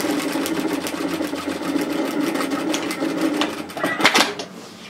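Sewing machine stitching a strap onto a mini Boston bag, a close, steady rapid chatter that stops near the end and is followed by a short rustle of fabric being handled, no talk.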